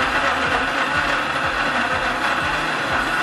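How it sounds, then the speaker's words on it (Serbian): A blender chops tomatoes for adjika with a loud, continuous whir and a regular thumping pulse about twice a second as the pieces churn, with no voices. "Sljedeće što radim, stavljam svo povrće u blender, krećem prvo od paradajza."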